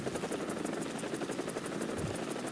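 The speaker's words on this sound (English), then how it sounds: "Is that a hostile helicopter?" A helicopter in the War Thunder combat game, a steady thudding rotor beat with constant engine drone heard fairly quietly and continuously, with no talk.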